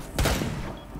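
Gunfire in the tactical shooter Rainbow Six Siege during a tense round: a loud, dense burst of shots lasting under a second, close and punchy, then a lingering rumble.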